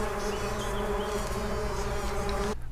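Close, steady insect buzzing from a hornet or honeybee, a continuous droning hum with no pauses that cuts off abruptly near the end.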